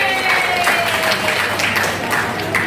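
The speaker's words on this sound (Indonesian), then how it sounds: "Tepuk tangan dulu." Attendees at a basic digital marketing class for content creators clap together in a brief, dense burst of applause, with faint voices mixed in.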